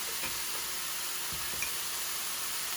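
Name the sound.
crushed garlic added and sizzling in pan with salmon glaze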